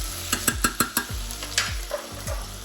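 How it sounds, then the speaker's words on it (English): Potatoes tumble into a pan of Cypriot turlu stew, a quick run of close thuds and clatters followed by stirring scrapes over a low simmer. "At this particular point I'm going to add my potatoes."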